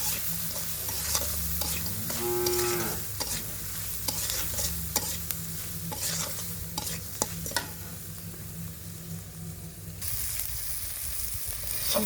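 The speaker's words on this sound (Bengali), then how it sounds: "হলুদের ফাঁকি লবণ সব মশলা কষে নিব" Spices fry in a pan in a village kitchen: dried chilli, turmeric and salt. A continuous close sizzle carries repeated scraping stirs and small clicks of the spatula, with no voices.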